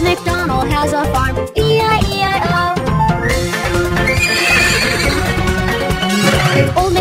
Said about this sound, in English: And on his farm he has a horse, E-I-E-I-O.